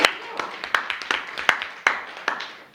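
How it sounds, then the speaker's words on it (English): A class gives a round of applause, heard as sparse, evenly spaced claps, about eight sharp hits in under three seconds, fairly close and fading after each one. "Round of applause."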